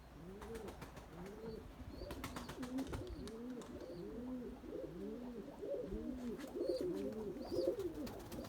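Several pigeons coo continuously in soft, repeating rolling calls, close and overlapping, with occasional sharp clicks and wing noises around a pigeon loft.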